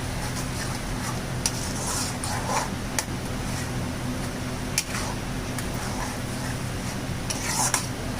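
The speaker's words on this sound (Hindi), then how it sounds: "अभी मसाला को भूज लेने का है।" Masala roasts in a pan, with a steady soft sizzle under repeated scraping and clinking as a metal spoon stirs it, close and continuous.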